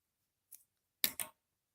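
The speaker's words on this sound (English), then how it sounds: "And here we can cut the yarn." Scissors snip yarn while finishing a crocheted baby skirt: one faint short cut, then two quick crisp snips close to the listener, in an otherwise silent room.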